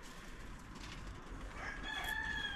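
A chicken on a farm gives a faint, drawn-out call near the end, rising over a low rumbling outdoor background.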